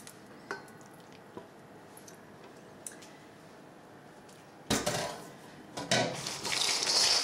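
Melted marshmallows and butter being stirred into a cereal mixture in a big bowl, starting as faint scattered clinks, then turning into loud, close, wet squelching and scraping sounds in bursts near the end.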